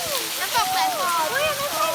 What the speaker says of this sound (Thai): น้ำตกสายฝน